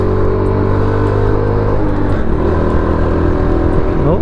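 A 2009 classic motorcycle fitted with an aftermarket pipe runs with a steady, close engine drone, its pitch dipping midway and then rising again as it is revved near the end.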